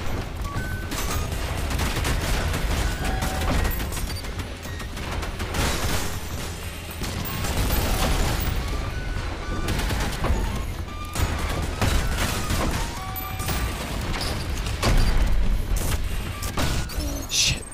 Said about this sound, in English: I'm just gonna shotgun swap you.